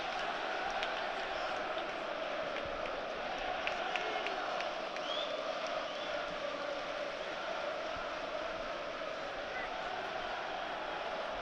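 Crowd at a Sunderland AFC home match against Luton Town, a dense, steady stadium murmur with distant chants and scattered shouts, holding level throughout beneath a commentator's voice.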